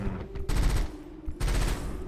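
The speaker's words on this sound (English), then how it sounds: "I don't know how I feel about the burst fire" A burst-fire weapon shoots in the game Rusted Moss. Two separate rapid bursts land about a second apart, loud and close.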